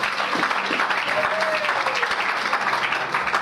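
A church congregation breaks into steady, dense applause that continues throughout, with a brief voice rising faintly over the clapping.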